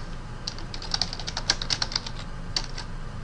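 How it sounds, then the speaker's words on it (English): Keys clatter on a computer keyboard as a subject line is typed, a quick irregular run of light clicks close by over a steady low background hum, with no voices. "Just type in the subject,"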